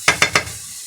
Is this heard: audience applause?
no